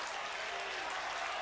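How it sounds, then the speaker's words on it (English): St Kilda football fans applauding at a 1988 match against Carlton, a soft, even wash of crowd clapping heard from a distance with no commentary over it. "Applause from the St Kilda fans here as Bob Jones is warming up on the sideline."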